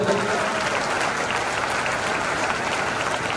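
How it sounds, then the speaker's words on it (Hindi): Steady, dense audience clapping for local performers after a dance-drama, a continuous wash of applause from a large crowd. "जोरदार तालियां बजनी चाहिए यहां से लेकर वहां तक"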